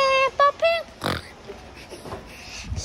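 A cartoon pig from Peppa Pig oinks in three quick tonal squeals at the start, followed by a short snort and quieter muffled sounds, close and fairly loud.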